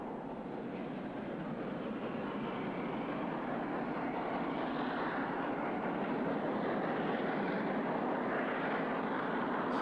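Two steam locomotives working hard together as they haul a train with an extra water tank wagon up a gradient in Pakistan, a continuous broad, rushing roar that swells slightly over time, heard at a moderate distance with no voices.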